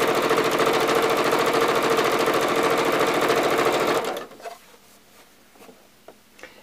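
A sewing machine runs steadily and loudly, stitching the long edge of a fabric face mask for about four seconds, then stops, leaving faint handling noises and light clicks.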